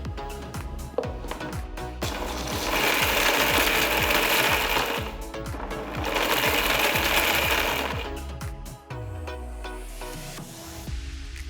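A kitchen mixer grinder coarsely grinding roasted masala spices, running in loud rattling bursts that swell and ease, with spices clattering inside the jar between pulses.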